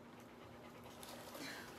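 A dog pants nearby in quick, soft, rhythmic breaths, faint and steady over a quiet room.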